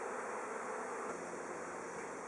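Honey bees hum around a backyard beehive, a steady, dense buzzing that fills the background evenly throughout.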